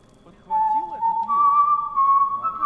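In Sniper Ghost Warrior 2: Siberian Strike, enemy soldiers whistle a sustained, steady tone that slides up to a higher pitch partway through. It carries clearly over low murmuring voices and game ambience.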